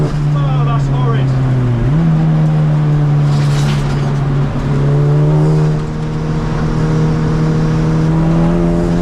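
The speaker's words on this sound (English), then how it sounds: "I've got a vibration on my right drive shaft when I accelerate." A race car at Snetterton circuit, with a vibrating right drive shaft, accelerates in a loud, steady in-car engine drone that rises in pitch as it pulls, with a short dip and recovery around two seconds.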